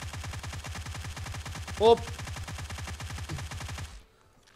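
UMP submachine gun fired in a sustained spray in PUBG Mobile, a rapid even stream of shots lasting about four seconds before cutting off abruptly, with a brief spoken word partway through.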